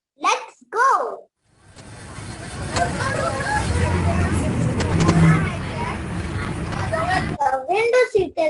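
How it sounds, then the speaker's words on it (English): A BMC city bus rides along a busy Mumbai street, its steady engine and road rumble mixed with crowd babble and scattered bumps and knocks; people talk briefly before and after the ride noise. "Would you all like to take a ride in our BMC bus?"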